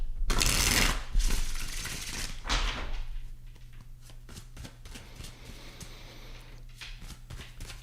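Tarot cards shuffled by hand, a loud crisp riffling burst at the start followed by softer flicking and tapping of the deck, close up, with a steady low hum underneath.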